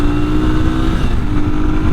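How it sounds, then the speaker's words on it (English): A car engine revving hard up to around 8,000 RPM, a steady dense drone holding high and loud throughout, close and alone without talk. "Oh, revs!"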